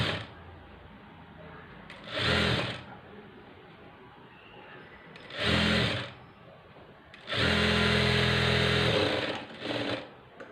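A sewing machine stitching slippery cloth runs in several short bursts of steady whirring, with one longer run and quiet handling sounds in between.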